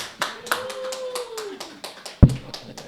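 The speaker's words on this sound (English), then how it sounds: "So big round of applause if we can for Mike." A small audience at a podcast recording claps for a guest, sparse individual claps spaced irregularly and close to the microphone, with one sharp loud clap near the end and a thin background tone.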